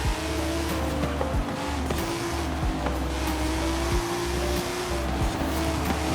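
A NASCAR race car in Forza Horizon 5 roars steadily at high speed, its engine drone holding a sustained pitch with occasional rising and falling shifts and a constant rushing road noise.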